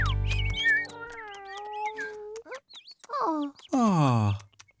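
A cartoon cat lets out several drawn-out, mournful meows in a row, each rising and falling in pitch, close and clear with short pauses between cries.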